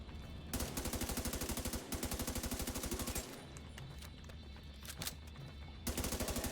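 Automatic gunfire in The Division 2 hardcore mode, loud rapid bursts of shots in several long volleys with short pauses between them, no voices.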